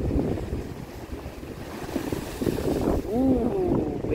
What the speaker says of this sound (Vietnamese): Wow, sóng dữ ta.